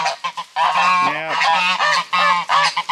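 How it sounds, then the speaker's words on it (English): Geese honking loudly and close beside a large outdoor rabbit hutch, a run of repeated nasal honks overlapping one another, with a man's brief word heard at the start. "I hear the geese"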